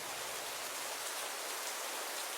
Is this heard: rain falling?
yes